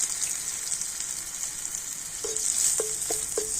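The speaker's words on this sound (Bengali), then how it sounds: "কাঁচা লঙ্কা কালো জিরেকে একটুখানি ভেজে নিয়ে এর মধ্যে দিয়ে দেব হলুদ গুঁড়ো অল্প একটু লঙ্কা গুঁড়ো" Green chillies, black cumin and turmeric fry in hot oil with a steady, bright sizzle throughout, joined near the end by a few short scraping stirs.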